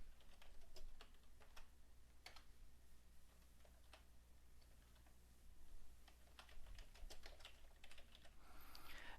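Keys clack on a computer keyboard as a last name is typed into a form, quick irregular taps in short bursts with brief pauses, close and faint over a low steady hum.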